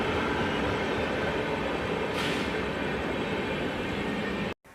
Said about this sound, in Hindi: चेन्नई से आने वाली ग्रैंड ट्रंक एक्सप्रेस हमारी ट्रेन को क्रॉस करते हुए चिरूला रेलवे स्टेशन को धीरे धीरे स्किप कर रही है